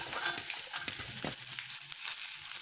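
Small shallots fry with a bay leaf in oil in a pan, giving a bright continuous sizzle broken by a few short stirring scrapes, close and alone.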